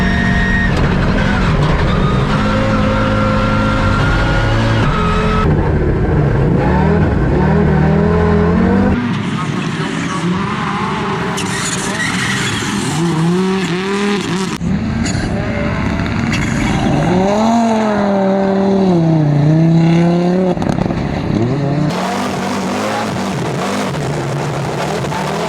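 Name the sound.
Audi Quattro S1 E2 Group B rally car driving, engine revving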